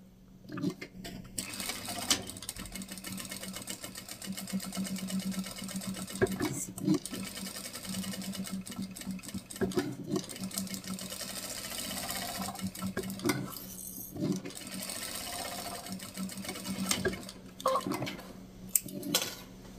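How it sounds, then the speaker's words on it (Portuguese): A sewing machine stitches around the edge of a fabric and batting phone holder with a longer stitch and backstitching. It makes rapid mechanical whirring in repeated runs, broken by short pauses and handling clatter. "nós vamos passar uma costura aqui a toda volta com retrocesso"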